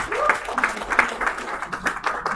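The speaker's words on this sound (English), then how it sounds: "Please clap for yourselves." A hall audience of women and mothers claps for themselves at an empowerment talk, a scattered, moderately loud patter of hands with a few sharper individual claps standing out.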